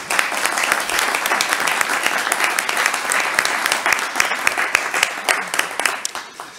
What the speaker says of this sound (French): Vous pouvez l'applaudir aussi, et les applaudir.